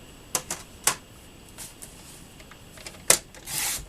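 Paper trimmer cutting card stock, a few sharp clicks and short scraping strokes spaced across the moment, ending in a longer rasping slide of the blade, close up with no talking.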